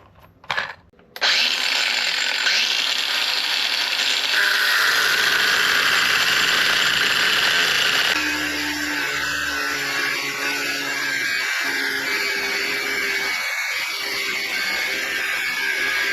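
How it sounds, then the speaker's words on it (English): An angle grinder cuts through sailboat engine mounts with a loud, continuous high-pitched whine that starts abruptly and runs steadily, shifting to a rougher, lower grinding tone partway through. "the angle grinder is going to do it more accurately and more efficiently, so we'll swap over to this"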